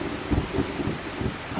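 Heavy rain pours steadily with low rumbling thunder beneath it, a brief, fairly quiet stretch of storm with no voices.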